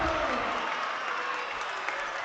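A high school basketball crowd roars and applauds after a go-ahead pull-up shot in a game against Manhattan, a dense, sustained wash of cheering that stays loud throughout.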